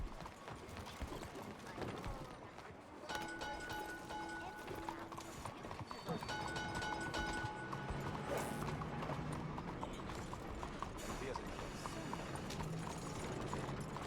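Steady clip-clop of horse hooves at a walking pace in the video game Red Dead Redemption 2, with a brief whinny and a voice speaking over the continuous background.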